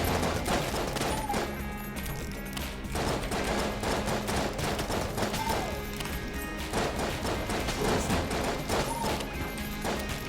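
Rapid shotgun blasts in Enter the Gungeon fire in repeated bursts over continuous background music and effects, loud and close.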